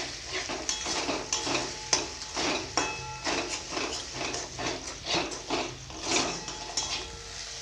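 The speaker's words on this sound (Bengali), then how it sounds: "কড়াতে একটু সাদা তেল দিয়ে দিব দুটো ডিম ভুজি করে নিব" Two eggs being scrambled in white oil in a wok, a spatula scraping and knocking against the metal in quick repeated strokes over a constant close sizzle.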